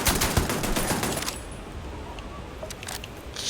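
Automatic gunfire in the game Starfield, a dense rapid burst for the first second or so, then quieter game ambience with a few faint clinks and distant shots.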